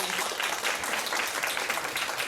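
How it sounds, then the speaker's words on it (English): Audience applause at a relaxed conversation event with Ani Choying Drolma, a steady wash of hand clapping at moderate level filling the whole moment without a break. "we should give a warm round of applause"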